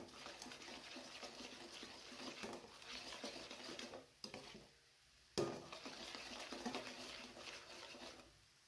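Chivda mixture being stirred in a pan with salt and turmeric, a steady scraping and rustling of dry flakes against metal, briefly pausing twice before resuming, close and moderately loud.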